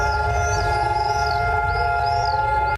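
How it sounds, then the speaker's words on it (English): Israel's Memorial Day siren wails in a long, steady, sustained tone that rises and falls slightly, loud and continuous with a low rumble beneath, no voices. "As a siren sounded to mark the beginning of Israel's Memorial Day, the country came to a standstill."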